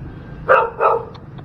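A dog gives two quick, sharp barks close by, followed by a couple of faint yips.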